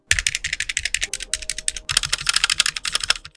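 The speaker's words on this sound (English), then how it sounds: "This keyboard stabilizers sound horrible." Rapid typing on a Wormier K66 mechanical keyboard with faulty, rattling stabilizers, close and crisp, with dense clacking keystrokes and a brief pause partway through, no voices.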